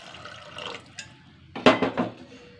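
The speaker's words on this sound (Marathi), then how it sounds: "इथं पाणी टाकून घ्यावं अगोदर" Water poured into a cooking pan while making hotel-style sambar on the stove. A brief, close splashing pour swells and fades in about a second amid quieter kitchen handling noise, with no talking.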